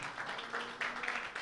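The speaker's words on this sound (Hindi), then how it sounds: "ऊंची आवाज से तालियां बजाएं" Church congregation applauding at a Sunday worship meeting, a dense steady wash of many hands clapping loudly with swelling bursts throughout.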